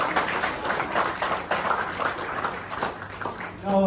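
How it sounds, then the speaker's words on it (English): Applause and clapping from guests at a Samoan Māori 21st birthday celebration, a steady broadband patter lasting several seconds with some voices mixed in and a voice starting near the end. "Everyone, give a big round of applause for Miria and the whānau of."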